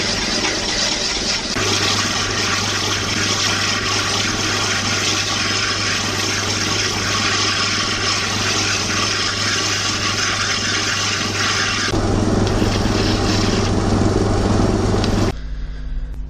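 Steady, loud whirring grind of a machine flattening the side of a rutile quartz stone, continuous with a low hum and a water-like wash, shifting in tone near the end before abruptly dropping off.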